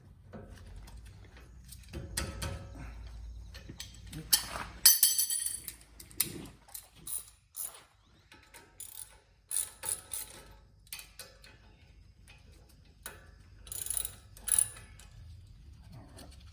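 A 17 mm breaker bar cracks loose the front brake caliper pins on a Lexus GX470, with several sharp metallic clicks, ratchet rattles and clinks in irregular bursts over quiet pauses.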